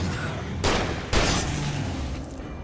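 Two sharp, loud shotgun blasts about half a second apart in the horror game Alan Wake 2, each with a broad crack and a short decaying tail over a steady low ambient rumble.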